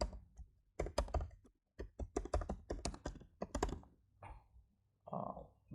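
Computer keyboard typing while entering an email address for an administrator account during an Amazon Connect contact center setup; bursts of quick, close clicks separated by short pauses.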